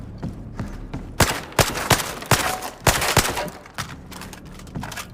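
Rapid gunfire at a shooting range in a video game, with sharp, loud reports in an uneven rhythm, some shots spaced and others in quick pairs, over a steady background hum.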